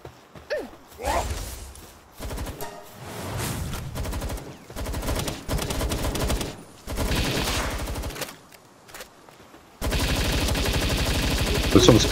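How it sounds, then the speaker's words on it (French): Bursts of rapid assault rifle fire in the game Palworld, repeated in several loud volleys separated by short pauses, with a person talking at points. "faut pas oublier qu'on a un fusil d'assaut"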